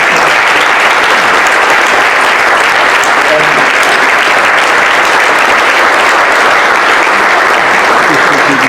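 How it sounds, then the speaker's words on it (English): Loud, sustained applause from the audience at a mayoral debate as elected officials stand, a thick unbroken wash of clapping lasting several seconds. "If I can have all the elected officials who are here this evening rise so we can give you a round of applause,"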